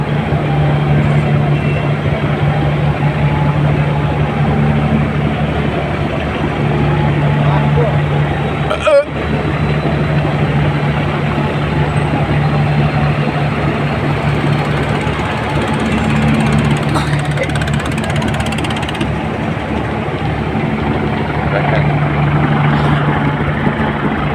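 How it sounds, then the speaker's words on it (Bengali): A passenger launch's engine pulling away from Sadarghat terminal bound for Chandpur, with a loud, steady low droning hum that holds throughout, a brief knock partway through, and indistinct voices mixed into the noise. "সদরঘাট লঞ্চ টার্মিনাল থেকে লঞ্চ আমাদের ছেড়ে দিয়েছে।"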